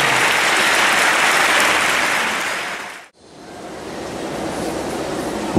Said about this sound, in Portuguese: Uma salva de palmas para o nosso pastor.